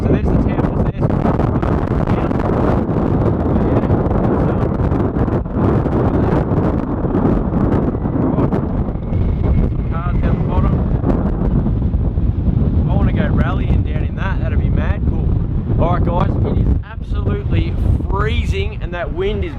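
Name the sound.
strong cold wind blowing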